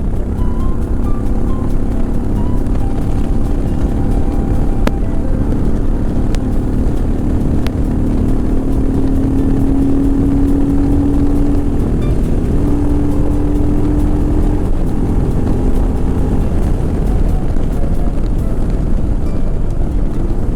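A modified Royal Enfield Himalayan 411 motorcycle engine, fitted with a decat, DNA filter and FuelX, drones loudly and continuously, a low rumbling hum with occasional shifts in pitch, mixed with wind buffeting.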